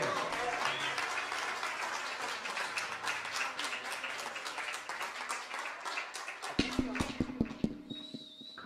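Audience applause at a live music venue, a dense burst of clapping that fades, then a few sharp isolated claps trail off at the end.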